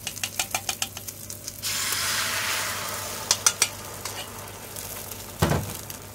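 Beaten egg poured into an oiled non-stick pan for Japanese tamagoyaki. A few sharp taps come first, then a bright sizzle swells and settles, followed by scattered clinks of utensils against the pan.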